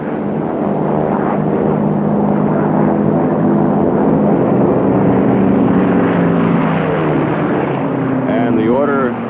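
Racing propeller airplanes at the 1970 Reno air races roar past in a loud, continuous drone with shifting engine pitch as they pass, under an announcer's running commentary.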